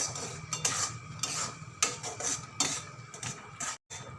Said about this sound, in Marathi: हे रवा आता एक ते दोन मिनिटासाठी हे रवा भाजून घ्यायचा